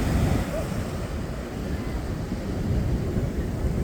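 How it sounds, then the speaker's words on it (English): Heavy surf from a king tide rolls and crashes over the sand at Charlestown Beach and washes into the breachway, a loud, continuous roar of breaking waves with strong wind rumble. "you can see the waves are just crashing over the sand, washing into the breachway"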